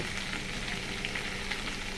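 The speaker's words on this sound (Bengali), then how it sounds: "একটু ভালো করে কষিয়ে নেব আমি ফুলকপি" Cauliflower sautéing in a pan for a fish curry, a steady close sizzle and crackle of frying throughout, with no one talking.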